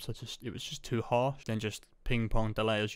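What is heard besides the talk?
None of the usual background noises is heard.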